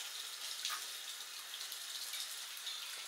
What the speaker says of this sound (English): Now we just gotta let the water run out.